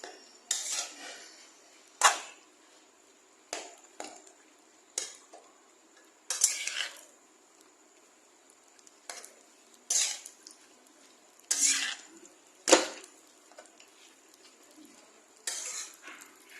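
Pitted dates roasting in a pan while being stirred, with a spatula scraping and clinking against the metal in irregular bursts, a faint sizzle beneath, no talking.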